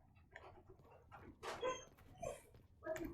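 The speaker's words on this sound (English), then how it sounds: "Just hear the dogs walking around outside." Dogs moving about in a stairway area next door, heard as scattered faint shuffles, soft yips and whimpers in a quiet room, with a few louder bursts rising and falling over several seconds.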